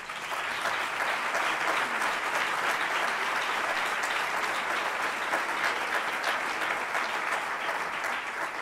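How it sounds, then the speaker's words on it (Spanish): Congress audience in a hotel hall breaking into sustained applause, dense and even clapping that holds steady at a strong level from start to finish. "Y el aplauso es de verdad"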